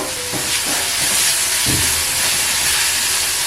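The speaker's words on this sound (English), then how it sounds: "I'll roast this for 2 to 3 minutes, and then it's done." Chili thecha roasting in a pan over a medium flame, giving a steady loud hiss and sizzle with a few soft clatters of stirring, and no talk.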